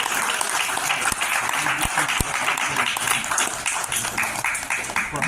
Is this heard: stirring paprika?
no